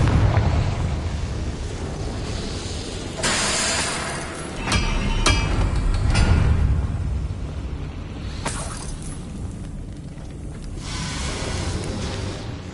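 Confringo explosive spell blasts in Hogwarts Legacy, several loud booming bursts and crackling impacts over a rumbling, noisy battle background.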